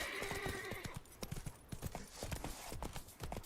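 Roach the horse galloping in the video game Witcher 3, with a steady run of clip-clop hoofbeats, a brief whinny at the start and game sounds underneath.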